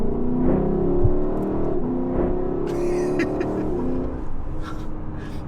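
A Lexus LC500 engine drones and revs from inside the cabin, a steady low tone rising slightly in pitch, with faint clicks and rustles over the top.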